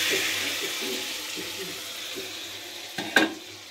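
Boiled potatoes dropped into a pan of frying spice paste and stirred, a steady close sizzle running throughout with a sharper splash and clatter near the end.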